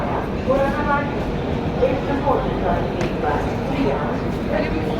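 A passenger train on the Delhi to Kathgodam line rumbles along steadily near Ghaziabad, with a low continuous rolling noise and faint rhythmic clatter throughout.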